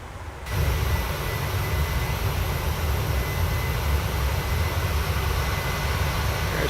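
Airliner engines in Microsoft Flight Simulator 2024 roar at full climb power, a loud, steady, broadband rumble that swells in after a quieter half-second and then holds constant.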